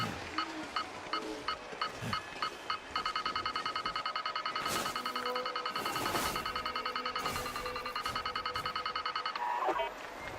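Repeated electronic beeping in the video game The Long Dark, first spaced beeps and then a long rapid run of evenly pulsed tones, with a few other sounds in between.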